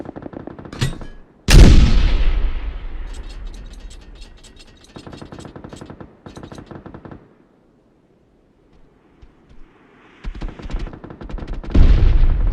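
Mortar in PUBG on PC, loud sharp firing blasts with mechanical clanking and ratcheting of the weapon between shots, a quiet pause, then more loud bursts near the end.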